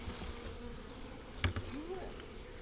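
About 20,000 bees buzz inside a screened swarm box with the lid unscrewed, a close, steady insect hum with a faint whine rising near the end and one brief knock.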